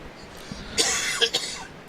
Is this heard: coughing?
yes